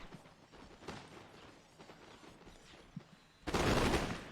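Musket volleys from a Total War Shogun 2 Carlist War mod battle, scattered crackling shots through the opening seconds, then a sudden, much louder sustained burst of massed gunfire at the end.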